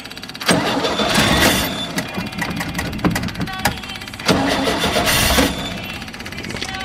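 A cold engine cranks and catches with the choke partly closed, loud, rough and uneven, surging and stumbling at close range.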